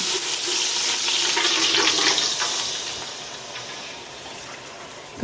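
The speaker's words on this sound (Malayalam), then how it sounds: "നമ്മൾ 5 ഗ്ലാസ് വെള്ളം ഒഴിക്കുന്നുള്ളൂ" Water for mutton biryani rice pours into a pot in a steady, loud gushing splash, tapering off gradually toward the end with no voices.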